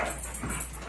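A dog whimpers briefly, with a couple of short whiny yips close by over a faint background hum.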